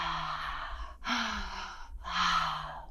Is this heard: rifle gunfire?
no